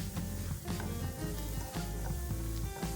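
Spices sizzle with onions in a pan while a potato filling is being cooked, producing a continuous close frying hiss with light scraping from stirring and no voices.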